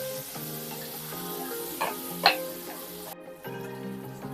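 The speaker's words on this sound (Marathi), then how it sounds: "याच पद्धतीने आपण बटाटे चांगले फ्राय करून घेऊया" Potato pieces frying in oil for aloo changezi, a steady near sizzle with a couple of brief louder crackles and clinks partway through, then a short dip before the frying noise resumes; no talking.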